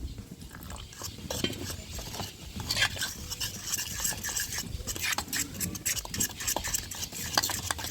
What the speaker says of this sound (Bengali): এটাকে ভালো করে ফাটিয়ে নেব। ভালো করে ফাটিয়ে নিলে মুচমুচে হবে।